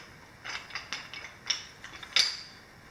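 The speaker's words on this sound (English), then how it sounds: "It's a wrench." A large old wrench, once used to remove a big saw blade nut, is handled and turned, giving a string of metallic ratcheting clicks and clanks, close and fairly faint, no talk.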